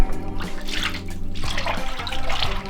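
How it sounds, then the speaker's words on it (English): Carrageenan seaweed size is poured into a paper-marbling tank, giving a close, continuous splashing and gurgling of thick liquid with brief drips, no voices. "And I'm going to pour it into my marbling tank."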